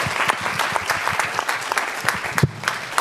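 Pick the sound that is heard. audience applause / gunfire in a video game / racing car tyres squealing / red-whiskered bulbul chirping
audience applause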